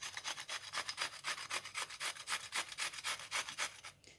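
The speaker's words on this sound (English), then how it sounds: "I'm going to grate some courgette on probably the cashew butter side." Half a courgette rasped against a grater onto focaccia, a steady rhythm of about a dozen close, scratchy strokes with no voices.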